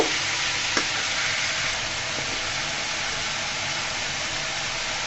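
Radish greens frying in a pan as they are stirred after salt is added; a constant dense hiss of sizzling close by, with a spoon knocking lightly once or twice and no talking.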